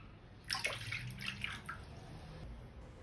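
Lukewarm water poured into a bowl for dough, a short faint splashing trickle lasting about a second, then quiet.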